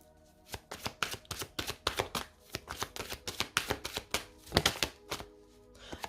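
Tarot cards are shuffled close up in repeated quick riffles and taps, each burst crisp and bright, with short pauses between handfuls.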